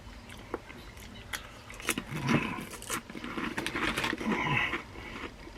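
Close-up crunching and chewing of crunchy barbecue snacks, with irregular crisp bites and rustling, ending in a sharp louder crunch.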